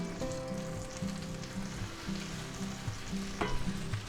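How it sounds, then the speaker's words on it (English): Buttered bread sizzles butter side down in a frying pan, a close, steady crackling fry with a low hum underneath and no talking. "Now we're going to go ahead and add our buttered bread here to the pan,"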